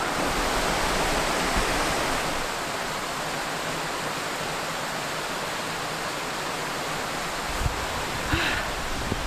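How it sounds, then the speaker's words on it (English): A steady, dense rush of falling water roars continuously and evenly, close and loud, with no voices. "Well, it's sort of a waterfall."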